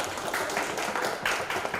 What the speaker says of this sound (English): Let us give a big round of applause to all these participants.